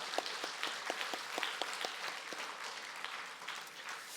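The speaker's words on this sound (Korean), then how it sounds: "하나님께 영광의 박수 올려드리겠습니다." Congregation applause at a Sunday morning church service, fairly faint with distinct individual claps standing out early, settling into a soft, even patter of clapping.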